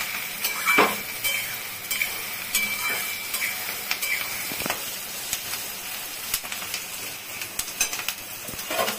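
Onion frying in a pan with tomato and ginger for egg bhurji: a continuous close sizzle and hiss with occasional spatula scrapes and clinks against the pan, with no voices.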